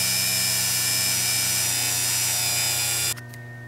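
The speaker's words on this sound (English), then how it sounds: "just get some of it onto the Dremel like this. And I'm just going to go on here" Dremel rotary tool polishing metal, a high steady whine with a constant buzzing hum that drops off sharply near the end as the tool is lifted or slowed.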